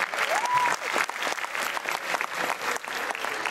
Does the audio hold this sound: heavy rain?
no